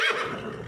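A horse neighs close by in a desert, a single loud whinny that trails off over less than a second with no talk over it.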